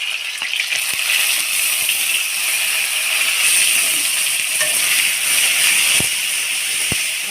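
Spice paste with tomato and onion paste sizzling in hot oil, a loud steady hiss with occasional sharp pops throughout.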